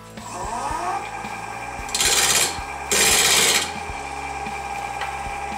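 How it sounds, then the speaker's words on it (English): Wood lathe spinning at 1000 RPM while a 3/8-inch bowl gouge turns a wooden bracelet, a steady mechanical hum with two loud bursts of scraping, rasping cuts as the tool bites in, no voices. "I'll be turning at 1000 RPM using my 3/8-inch bowl gouge"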